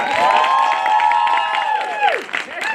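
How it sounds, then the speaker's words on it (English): An audience at a Women's Day celebration applauds and cheers for the panelists, a loud, continuous crowd roar with whoops and shouts riding over the clapping throughout. "Let's give our panelists a round of applause for the first round of questions."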